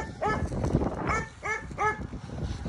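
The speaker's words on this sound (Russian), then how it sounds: "Собака, что она говорит?" A dog gives a few short, whiny barks and yelps in a rhythmic series, fairly close, with low background rumble and no clear talk.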